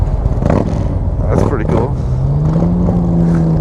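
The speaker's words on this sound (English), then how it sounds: "Man, that thing sounds really good. Wasn't that a Honda Shadow?" Honda Shadow motorcycle engine rumbling close by on a Portland street, a steady low drone under rider wind noise with a rising engine tone, while someone talks.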